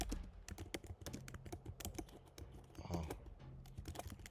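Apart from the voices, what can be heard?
typing on a computer keyboard with two fingers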